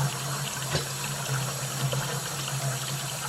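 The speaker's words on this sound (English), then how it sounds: "now I'm going to turn the water off here" Water runs steadily from a tap in a continuous, moderately loud hiss and splash with a faint low hum beneath it.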